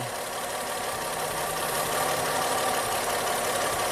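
Car engine running with a misfire from injector number 4 unhooked, a steady, close idle with an uneven knocking roughness throughout and no talk.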